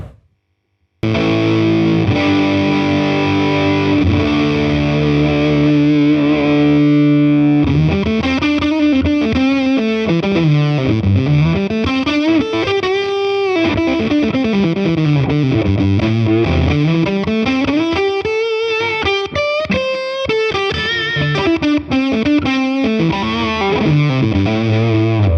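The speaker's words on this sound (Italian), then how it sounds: "Ottieni quindi quella compressione anche esagerata, quel sustain diciamo infinito, tipico di un tweed oltre il limite della distorsione" Electric guitar played through an Origin Effects Deluxe55 overdriven tweed amp pedal, loud and heavily distorted with compressed, long-sustaining notes and sweeping bends, alone without talk.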